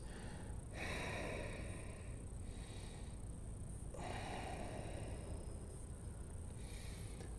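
Slow, audible breaths during a held pause in a yoga class for runners, each inhale and exhale coming as a soft rushing swell close to the microphone, roughly every few seconds.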